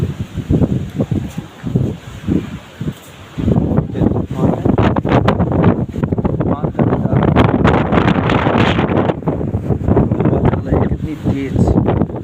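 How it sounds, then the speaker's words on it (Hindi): Strong gusting wind buffets a rural outdoor spot in Uttar Pradesh, roaring loudly and continuously against the microphone, with intermittent voices talking over the rushing gusts. "बहुत तेज हवा चल रही है, मेरे कपड़े उड़ रहे हैं"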